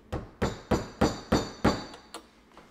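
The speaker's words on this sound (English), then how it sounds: "we'll tap it with a hammer to get it up in there as far as it'll go." A hammer taps a wooden tee into a stripped screw hole on a loose dishwasher bracket, about eight evenly spaced sharp knocks, close and clear, the last few lighter.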